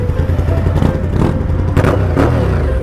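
An SV motorcycle engine revs in short bursts over a constant rough idle, the throttle blips rising and falling close by with some mechanical clatter.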